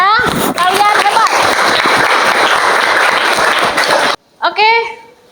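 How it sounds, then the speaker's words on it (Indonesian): A classroom of students bursts into loud, steady applause for several seconds, with a teacher's voice over the start and again after the clapping stops. "Tepuk tangan ya, kalian hebat."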